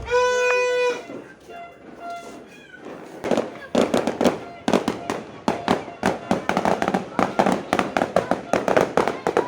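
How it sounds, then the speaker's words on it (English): A neighbour's New Year fireworks: after a brief voiced sound at the start, a rapid series of sharp crackling bangs builds in density and keeps popping, loud and fairly near. "they're like fireworks from like the neighbor"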